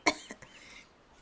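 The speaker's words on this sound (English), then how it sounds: "Why am I coughing?" A single sharp cough close to the microphone, followed by a softer second cough and a faint throat-clearing rasp, then quiet.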